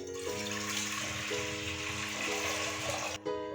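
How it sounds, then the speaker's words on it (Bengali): Water gushes steadily into a pressure cooker set up for boiling chana dal, a loud continuous pour that cuts off abruptly near the end. "দিয়ে দেব জল"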